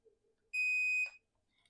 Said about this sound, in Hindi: कि बीप की जो आवाज़ आई ना, इट मीन्स कि ये स्टार्ट हो चुकी है